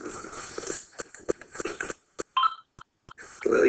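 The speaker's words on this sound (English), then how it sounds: "you can hear I forgot to turn my phone off" A mobile phone gives a string of short, close beeps and clicks in an irregular rhythm.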